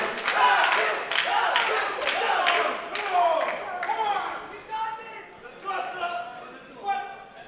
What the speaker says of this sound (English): Lot of support from the crowd.